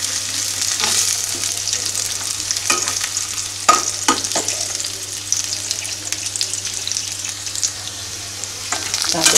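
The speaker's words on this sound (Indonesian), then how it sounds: "Kita aduk seperti kita menumis biasa." Oyong (luffa gourd) vegetables are stir-fried in a pan, giving a steady sizzle broken by repeated sharp scrapes and clacks of the stirring utensil, close and fairly loud, with no talking.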